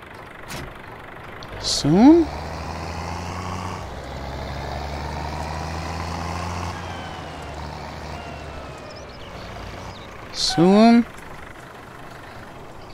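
A truck in Farming Simulator 19 idles and reverses to drop its trailer, a steady low engine drone with two short loud bursts of hissing air and mechanical sound, while someone speaks briefly.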